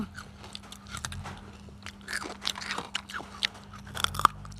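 Crispy baked fruit and vegetable chips are bitten and chewed right at the mouth, with a steady run of loud, brittle crunches and crackles and no talking.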